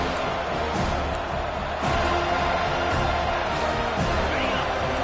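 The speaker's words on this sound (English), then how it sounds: "Fourth down, and this crowd is making it miserable on this offense." A stadium crowd roars steadily in a college football video game on a fourth-down play, a broad sustained din with a few sharp thumps and swells.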